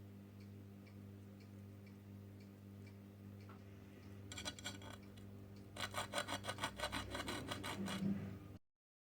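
A file rasps in short bursts of rapid strokes against the lower hand of a Colt Single Action Army revolver, dulling its sharp front edge, close and fairly quiet, building to a quicker run before stopping abruptly.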